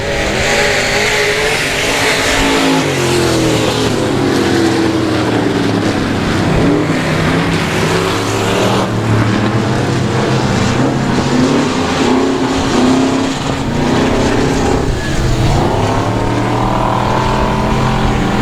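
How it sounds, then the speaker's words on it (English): Race cars roar past on a racetrack during a qualifying night at the South Texas Nationals, engines loud and continuous with revving pitch sweeps as cars pass close by, filling the whole stretch. "But Greg still looks like he drives a pretty good race car"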